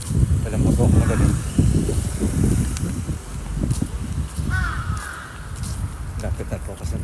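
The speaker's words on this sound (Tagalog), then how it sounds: "Naririnig niyo yung mga uwak" Crows cawing in a residential area during a walk, a few harsh caws breaking through a busy background of rustling, footsteps and wind, with a person talking nearby.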